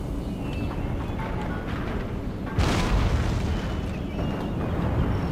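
Artillery firing in Empire Total War, a dense rumbling battle din with a heavy boom-like burst swelling midway and staying loud, no talk over it.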